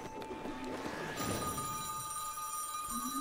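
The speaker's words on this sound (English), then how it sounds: "There's the phone." A telephone rings inside the video game Plants vs Zombies: Battle for Neighborville, a steady electronic ring tone holding over faint background game sounds for a few seconds.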